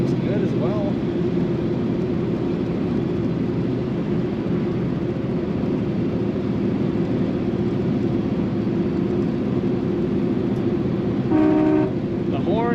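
A 1940 Cadillac Fleetwood 60 Special sedan engine runs steadily with a low, constant drone throughout while the car drives down the road, with a brief higher tonal sound near the end.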